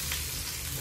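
Chopped onions for mutton kurma sizzle steadily in a hot pan, a dense continuous frying crackle with no pauses and no voices.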